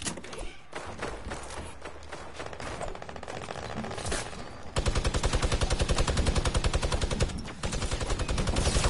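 AK rifles fire in rapid automatic bursts in a video game shooter, with dense, continuous cracking shots that grow heavier and louder partway through and continue almost without pause.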